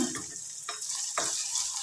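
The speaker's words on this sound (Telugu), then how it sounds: "ఉల్లిపాయ మిర్చి తాలింపు గింజలు వేసి తాలింపు పెట్టి" Steady high hiss of tempering seeds, curry leaves, onion and chilli sizzling in hot oil, with a few short bursts of crackling on top, close by.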